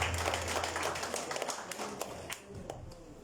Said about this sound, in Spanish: Le damos bienvenida con un fuerte aplauso.